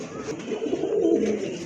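Pigeons kept for sale give soft, low, continuous cooing, close and murmuring throughout the short stretch with no talk over it.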